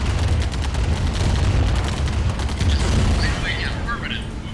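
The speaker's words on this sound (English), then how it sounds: "And then destroy this last building." A building being destroyed in the video game Command and Conquer Remastered: rumbling explosions and crackling blasts fill the scene, with a voice speaking over them near the end.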